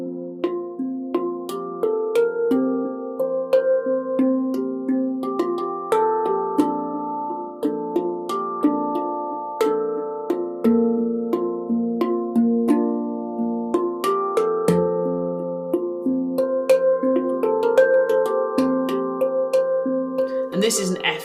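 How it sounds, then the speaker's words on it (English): A Celestial Sound Light Series Juno major handpan, a steel tongue drum, rings out in a steady flowing melody of struck tones with lingering overtones, played close and clear for about twenty seconds with no talking. "I chose the major pan, which is the Juno pan."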